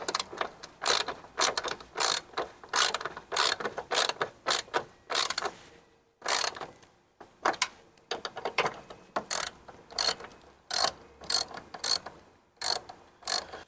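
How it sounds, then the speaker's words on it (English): A 13 mm socket ratchet tightens bolts on a Jeep JK running board, giving bursts of rapid, close-up clicking strokes in quick succession with a brief pause midway and no talking. "now we can take our 13 millimeter and start tightening everything down"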